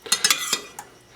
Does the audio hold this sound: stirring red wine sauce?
yes